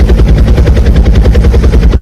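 The black Airwolf helicopter roars loud and close, its rotor chopping in a steady rapid thump that holds evenly and then cuts off abruptly at the end.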